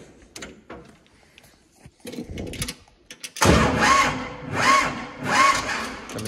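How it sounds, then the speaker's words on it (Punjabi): A tractor engine cranks on its self-starter in short mechanical bursts, then catches and runs with a loud, pulsing idle that swells and fades in waves. "ਹੁਣ ਸੈਲਫ ਚੱਕਣ ਲੱਗ ਗਿਆ ਟਰੈਕਟਰ ਜਾਂ ਨਹੀਂ"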